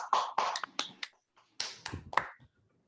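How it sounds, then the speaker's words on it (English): A few people clap after a physics talk, giving short uneven bursts of hand claps, close and fairly sparse, separated by a brief pause before a second cluster. "Let's all unmute and clap"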